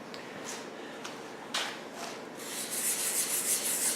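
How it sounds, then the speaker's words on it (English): Sanding filler on the wing repair of a model A-10, heard as soft, close scratchy rubbing strokes, a few short bursts and then a steadier rasp. "we've done some sanding on that wing repair"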